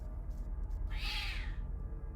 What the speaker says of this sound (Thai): เสียงแมวนะครับผม